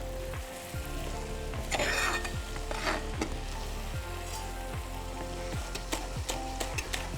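Chicken frying in a pan with a steady loud sizzle, stirred with repeated metallic scrapes of a spoon against the pan in a regular rhythm, with no talking.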